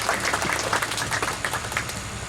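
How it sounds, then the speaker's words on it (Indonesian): Steady crowd applause at a ceremony opening a regional Islamic council office in West Papua, dense continuous clapping from many hands at an even level throughout, with no voices over it. "Mari kita beri aplaus yang meriah."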